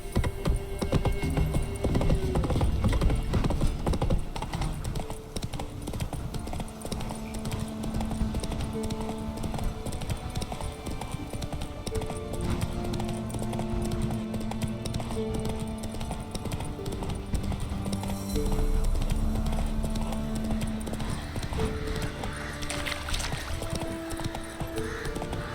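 Hooves of the horse Roach galloping in The Witcher 3, a steady rapid clip-clop that runs throughout under a continuous layer of in-game ambience and soft tones.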